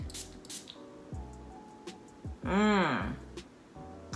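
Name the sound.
perfume sprayed onto a card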